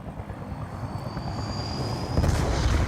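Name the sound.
helicopter in a video game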